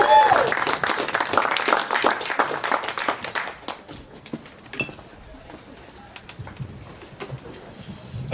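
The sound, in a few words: audience applause for comedians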